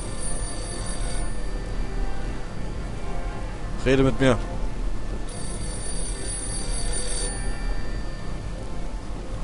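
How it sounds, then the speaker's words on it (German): A telephone rings in the video game Postal 2, a short burst of bright, trilling rings near the middle, with someone speaking German briefly over steady game background sound. "Telefon."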